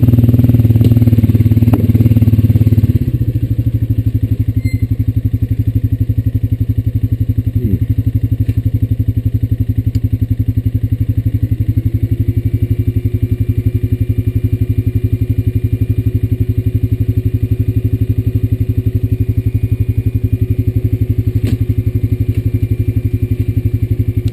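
A Honda Rancher 420 ATV engine drones steadily as it rides along a muddy woodland trail. The mid-pitched hum stays loud and close with a constant rhythm the whole way through, and no one speaks.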